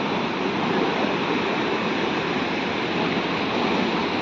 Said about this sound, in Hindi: गंगा जल कितने तेजी से बहाव कर रहा है